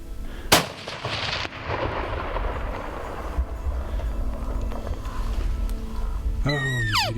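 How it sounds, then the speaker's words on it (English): A single loud, close .308 rifle shot cracks out at an elk on a New Mexico hunt. Rumbling outdoor noise follows, and a rising tonal call sounds near the end. "Shoot him."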